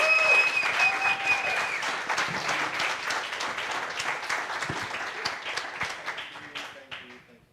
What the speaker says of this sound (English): please give my wonderful panelists a round of applause